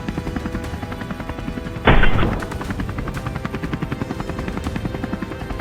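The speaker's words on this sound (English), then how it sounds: "The helicopter roared like a beast, soaring straight ahead." A helicopter's rotor thumps in a steady rapid rhythm, loud and close, with a brief burst of louder engine noise partway through, as it flies under a blazing sun on a wild boar hunt.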